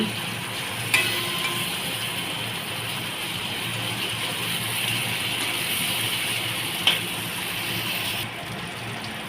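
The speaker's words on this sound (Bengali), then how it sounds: "এবারে মেখে রাখা মাছগুলো এক এক করে দিয়ে দিচ্ছি" Marinated raw boal fish pieces frying in a pan, a steady moderate sizzle with two sharp clicks as pieces go in, cutting off just before the end.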